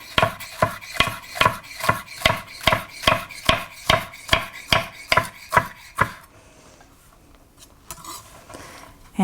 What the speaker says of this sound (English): this is 3 green onions, and I'm going to just run my knife across